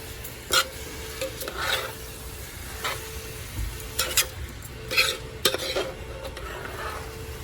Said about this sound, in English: let me stir that in